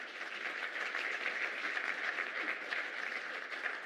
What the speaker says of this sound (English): Please clap your hands as they make their way to stage.